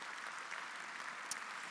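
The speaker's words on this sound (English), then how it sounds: "keep your applause coming for Grant Sutherland, CEO of KANGAN Institute" Steady applause from a graduation ceremony audience for the Kangan Institute Class of 2013, a dense, even patter of many hands continuing without pause, fairly quiet and distant.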